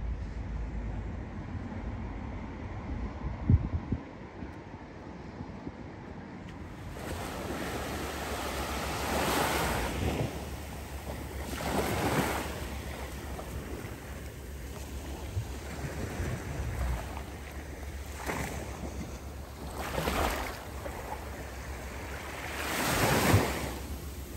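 Sea waves roll and break at Muchavista beach in El Campello in February, with steady wind blowing across the microphone; the surf swells and crashes in repeated surges, loud and close, and no one speaks.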